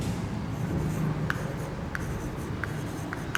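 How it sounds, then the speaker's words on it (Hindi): Chalk or marker scratching across a classroom board as a teacher writes notes, a steady faint rubbing texture with a few sharp taps, heard alone with no talking. "थोड़ा मैं बोर्ड पर नोट कराऊंगा आपको"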